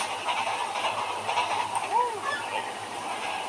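A circus transport train for animals in the video game Minecraft; a continuous hissing, rumbling rail sound of moderate loudness with a faint squeal, steady throughout.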